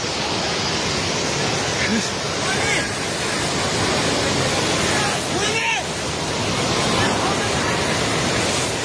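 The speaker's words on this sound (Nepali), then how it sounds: "पानी नजिक आइसकेको छ" Loud, steady rushing floodwater roars without pause near a submerged Trishuli bazaar in Nepal, a broad churning wash with faint voices occasionally audible beneath it.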